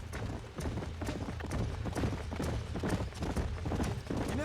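Horse hooves clip-clop in Red Dead Redemption, a quick, steady rhythm of hoofbeats at moderate loudness that continues throughout without a break.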